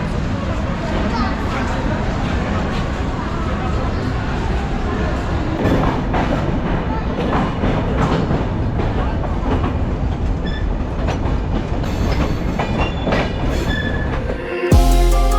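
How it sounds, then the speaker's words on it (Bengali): A Rupsha Bangla Express train pulls out of platform eight at Kamalapur station, bound for Benapole. It makes a steady, loud, close rumble and rattle of rolling carriages that continues throughout, with a brief thump near the end. "শহরতলির আট নম্বর প্ল্যাটফর্ম থেকে আমাদের ট্রেন ছেড়ে দিল বেনাপুলের উদ্দেশ্যে"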